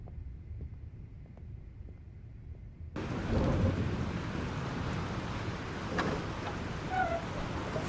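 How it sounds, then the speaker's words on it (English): Thunderstorm with rain in the game Life is Strange Remastered: a quiet indoor hum gives way abruptly to a loud, steady roar of heavy rain and wind with a low thunder rumble, continuing without talk. "This storm's real."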